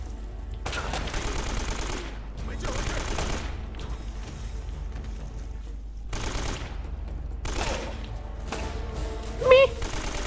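AK rifle gunfire in Uncharted: Drake's Fortune Remastered, several long loud automatic bursts separated by short pauses, with a brief sharp spike near the end.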